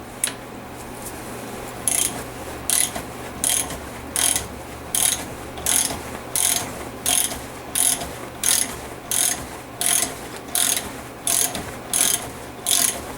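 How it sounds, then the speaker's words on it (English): A bearing puller is ratcheted to press a bearing off during an ARB air locker install, giving a regular series of loud, evenly spaced metallic clicks, about one every half second, with no talk. "we could take our puller and press this bearing off"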